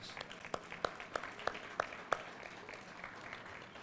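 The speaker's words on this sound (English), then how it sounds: "give them a warm round of applause" At the Hill at Sims Park dedication, a sparse, quiet round of applause for philanthropic partners and the Parks Board: several distinct, evenly spaced sharp claps stand out over a soft background patter, then fade.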